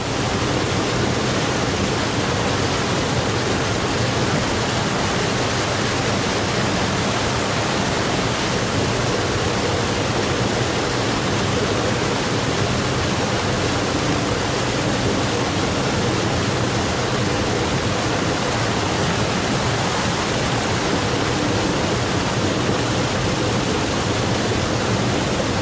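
A cold mountain stream rushes and roars nonstop, a dense, even wash of flowing water heard up close with no voices over it.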